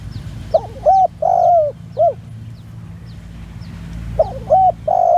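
Spotted dove cooing at a Thai dove calling contest, a close, loud series of soft rolling coos in two phrases separated by a quiet pause, over low outdoor background hum.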